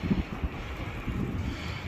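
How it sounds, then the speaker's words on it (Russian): Steady outdoor wind in the aftermath of a hurricane in Novokuznetsk buffeting the microphone, a broad rumbling roar with gusty swells and no voices. "Ветер, ветер, ты могуч."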